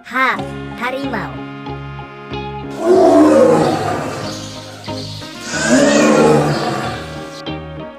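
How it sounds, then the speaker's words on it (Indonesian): Tiger roars, two long, powerful rumbling bursts that swell and fade, following a series of short tonal musical notes and sweeping sounds at the start; loud and close. "H, harimau."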